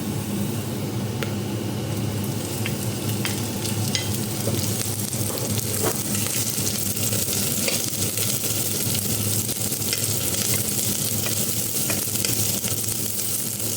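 Onions hit a hot pan for chicken tinola and sizzle steadily and loudly, a dense continuous frying hiss with scattered pops and crackles, close up and without talk.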